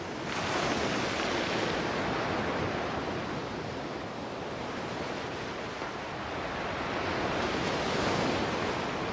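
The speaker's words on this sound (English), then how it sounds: "The waves broke on the shore." Ocean waves breaking on a shore in a steady, broad wash of surf, loud and continuous throughout, swelling and easing slightly with no voices present.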